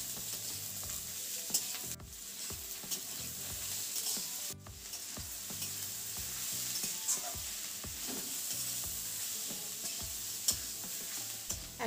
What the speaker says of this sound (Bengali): পেঁয়াজটাকে এখন ভেজে নিচ্ছি।